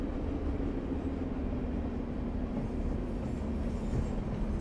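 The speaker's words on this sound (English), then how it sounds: "Oh, there's a train." Passing train in the railway game Train Sim Classic on the Glasgow to Mallaig line, a steady rumbling roar of rolling stock that holds at constant, fairly loud level throughout, with no talking.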